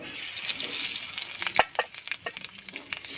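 Black cumin seeds hit hot mustard oil in a heated wok, making a loud burst of sizzling that breaks into sharp crackles and pops as it settles. No one speaks.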